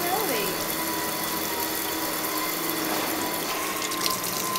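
Water from a shower runs steadily while Jack is being washed, a constant close hiss with faint voices mixed in underneath.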